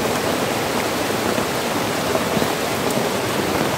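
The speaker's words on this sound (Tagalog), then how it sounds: "grabe na yung ulan. Sobrang lakas na." Heavy rain pours steadily during a flood, a dense, loud, continuous hiss of water with no pauses and no voices.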